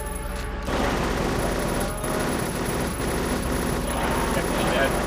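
Machine gun fire in the Silent Hill video game, a loud sustained rattle of rapid shots over booming game sound, continuous from start to finish.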